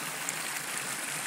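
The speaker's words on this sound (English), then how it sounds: "a look at the stream coming down here into the rocks. There's the water. Nice little waterfall here" Spring stream tumbling over rocks into a small waterfall and pool, a steady broadband rush of water, close and continuous without a break.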